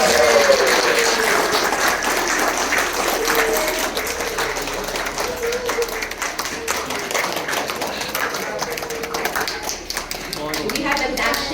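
Guests at a wedding ceremony give sustained applause, with dense clapping that continues steadily throughout, while voices are heard faintly beneath it.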